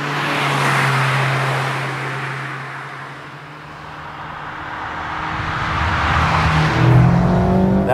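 A Mazda MX-5 RF ND2 sports car is driven with a sustained engine drone and whine that rises and falls with the revs, heard loudly from the cabin without any talking.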